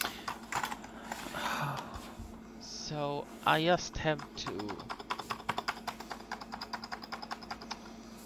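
A Macintosh SE computer keyboard is typed on in quick, even clicking bursts near the end, after a person speaks over a faint background hum.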